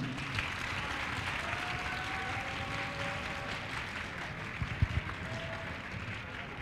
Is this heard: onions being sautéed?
no